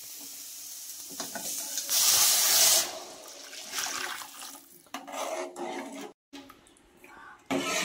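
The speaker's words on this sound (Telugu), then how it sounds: "వాటర్ అయితే దీంట్లో పోసేసుకుందాం." Hot water poured into a pot of sorghum flour soup, giving a broad hissing, sizzling splash that swells loud for about a second, then settles into softer stirring and bubbling with a brief pause near the end.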